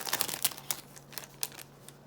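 A silver pack of baseball cards is torn open by hand, giving a close run of sharp crinkling rips and foil rustles, denser at first and then sparser, with no talking.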